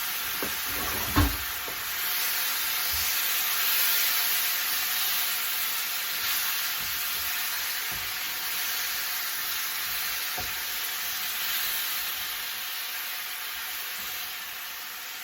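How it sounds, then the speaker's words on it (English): Eggplant sizzles in a hot pan as a sauce with mirin is stirred in, giving a steady frying hiss with a brief thump near the start and occasional soft scrapes of stirring. "And I'm going to stir that up."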